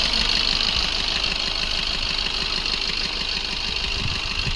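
A 2018 Maruti Suzuki Swift Dzire VDI diesel engine idles steadily and close up, with a continuous low rhythmic knocking throb and a constant broad hiss, no voices.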